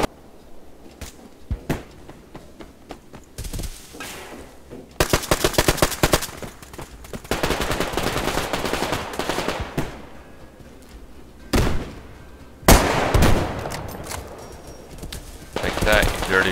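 Rapid bursts of automatic gunfire in a Survarium PvP match: several loud, close rattling volleys separated by short pauses, with some longer sustained strings of shots and scattered single cracks.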